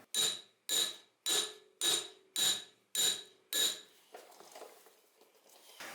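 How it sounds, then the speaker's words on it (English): Seven evenly spaced metallic hammer blows strike the hat of a 35-year-old C4 Corvette front brake rotor, each ringing briefly and loudly before decaying. A fainter rattle follows. "So the best way to loosen up a rotor from the hub is to hit it on the hat."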